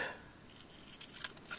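Scissors cut paper for a scrapbooking card, giving three quick, faint snips in a quiet room.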